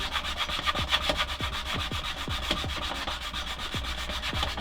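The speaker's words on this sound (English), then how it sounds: "A nice sanding block is really super important" Hand sanding with a 3D-printed sanding block, a close, rhythmic scratchy rubbing in quick regular strokes that continue evenly throughout.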